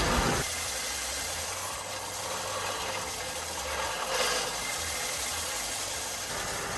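Sanding the turbo-side flange of an exhaust manifold flat gives a steady, loud abrasive rasp that runs unbroken from just after the start to the end, with no voices.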